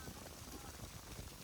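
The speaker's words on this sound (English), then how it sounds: "That is a lot of rain." Dense, steady hiss of heavy rain pattering on surfaces, continuous and fairly close, with faint splashy texture throughout.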